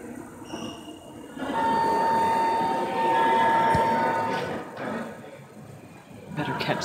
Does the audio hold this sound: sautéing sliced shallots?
no